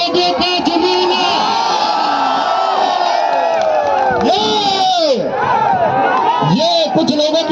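A large crowd at an RWA award ceremony in Greater Noida cheers loudly and steadily, with whoops and shouts rising over the dense roar of voices.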